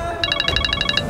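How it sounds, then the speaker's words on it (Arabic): A telephone ring in a dubbed drama scene: a rapid, regular electronic trill of about ten evenly spaced bright pulses, fairly loud and close, over low background rumble. "ليش عم تدق لي على التليفون؟"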